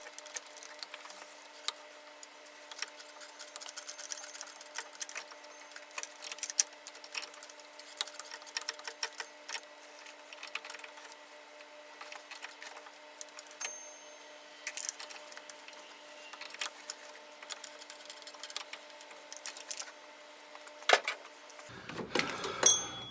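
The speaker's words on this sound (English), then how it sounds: "12mm socket on your ratchet and tighten them up." A ratchet with a 12mm socket tightens bolts while a power steering pump is replaced on a 2010 Honda Pilot, giving faint, quick mechanical clicking over a steady low hum with no voices.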